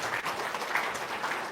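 A studio audience claps briefly and steadily at a business talk show, a short burst of moderate applause with no voices over it.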